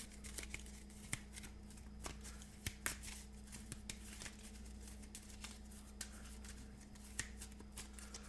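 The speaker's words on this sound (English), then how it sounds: "we're shuffling up his deck" A deck of cards is shuffled by hand for a Marvel Champions game, close and quiet riffles and taps with sharp clicks at irregular intervals over a low steady hum, with no voices.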